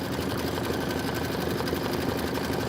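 An embroidery machine stitching a tack-down on fabric for an autumn banner project, a close, steady, rapid mechanical whirring and needle chatter with no pauses.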